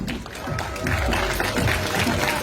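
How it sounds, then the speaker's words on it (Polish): Spectators applaud contestants at a chilli-eating competition, the clapping swelling after a moment into a steady crowd roar, mixed with some murmuring voices. "wielkie brawa dla naszych bohaterów"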